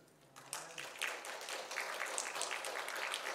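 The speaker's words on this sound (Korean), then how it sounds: "우리 장로님들과 같이 박수 쳤어요." A church congregation joins its elders in applause during a Sunday sermon, with soft clapping that swells after a moment into a steady, fairly faint patter heard from a distance in the hall.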